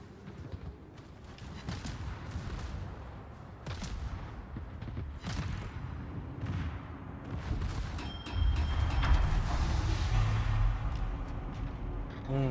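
Warship guns fire in the World of Warships video game, a series of deep booming shots and rumbling blasts over continuous engine and sea noise, growing heavier toward the end.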